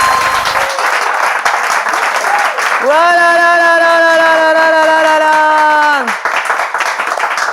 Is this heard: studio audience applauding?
yes